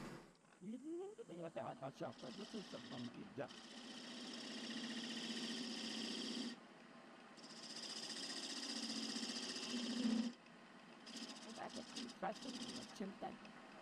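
On a wood lathe, a cutting tool shapes a dovetail on a tenon held in large chuck jaws, giving a steady close whirring scrape in long sustained passes with brief pauses, while someone talks over parts of it.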